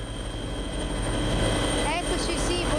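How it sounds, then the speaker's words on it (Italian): Carabinieri helicopter in flight, heard from on board as a loud, constant engine and rotor drone with a steady whine, with a brief voice coming through near the end. "sono già in volo con l'elicottero dei Carabinieri"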